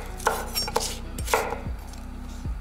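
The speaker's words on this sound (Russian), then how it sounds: "Сразу наливаем растительного масла и режем лук." Knife chopping onion on a board in a home kitchen, with a few sharp, close, distinct cuts spaced unevenly over a couple of seconds, no talking.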